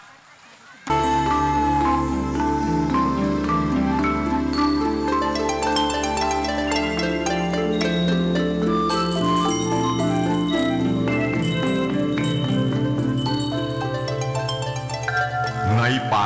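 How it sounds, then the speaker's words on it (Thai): A hand bell shaken to open a provincial ceremony in Sukhothai, Thailand, ringing continuously and loudly with bright, overlapping metallic tones for about fifteen seconds. "ร่วมกันสั่นกระดิ่งเป็นการเปิดงานอีกครั้งนะครับ"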